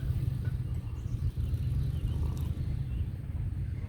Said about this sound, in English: there's like a big truck idling